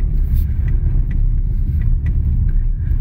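A BYD Seal U electric SUV rolling over grass, a loud, close, continuous low rumble of tyres and body with no engine note and no voices.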